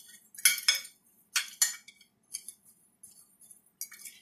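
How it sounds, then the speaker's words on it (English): A utensil stirs and clinks against a bowl while breadcrumbs are mixed, several bright scraping clatters in uneven bursts with short quiet gaps, close and clear with no talking. "And then I'm just going to mix them up a little bit here."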